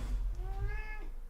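A domestic cat indoors lets out a single drawn-out meow with a rising then falling pitch, close and fairly loud over some low background noise.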